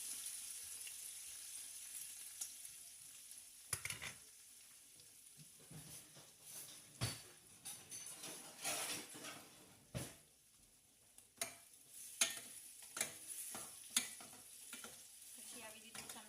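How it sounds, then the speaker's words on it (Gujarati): A spoon stirs boiled, cut potatoes with turmeric in a pan, giving irregular scrapes and metallic clinks over a soft background sizzle, close and fairly quiet. "પછી આવી રીતે ચમચાથી હલાવી દેવાનું"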